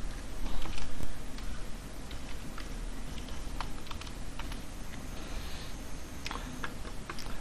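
An AT command typed on a computer keyboard for an ESP8266 WiFi module, a run of close, irregular key clicks over a quiet room hum.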